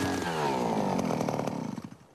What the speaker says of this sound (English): drill deep into the ground to analyze changes in the permafrost